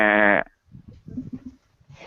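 A person voices a loud, wavering goat bleat, a single imitation lasting under half a second, followed by quieter mumbled talk.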